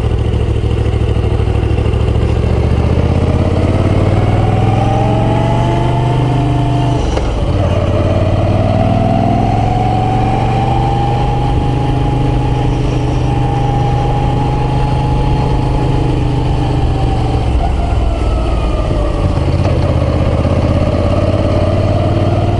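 Moto Guzzi V9 Roamer motorcycle engine running steadily on a ride, a loud continuous low rumble with rising and falling pitch as the revs change, no voices over it.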